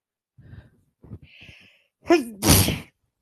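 A single sneeze comes in close: a quick rising inhale breaks into a sharp, noisy burst that lasts about half a second, after a few faint breaths and small vocal sounds.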